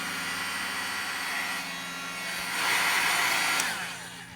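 Electric heat tool for crafting, blowing hot air for embossing in a steady, close whirring hiss that swells slightly louder partway through before easing off.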